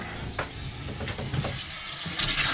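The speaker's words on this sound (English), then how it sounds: "So the tap's on in the bathroom as well." Water runs from a bathroom tap aboard a sailing boat at sea, a close hissing, sputtering flow with bursts and gurgles as air spits through the line, without speech.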